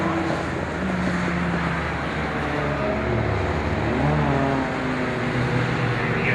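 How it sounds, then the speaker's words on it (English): Renault safety car pulling away from the pit lane at Silverstone during an MGOC championship race, an engine note rising as it accelerates, heard from trackside amid wind and crowd-like background noise, steady and moderately loud. "The Renault safety car struggles to leave it off pit lane there."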